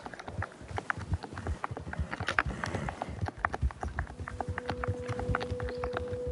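Horse hooves clip-clopping in a video game, a rapid, steady patter of hoofbeats at moderate distance, joined partway by a sustained electronic tone.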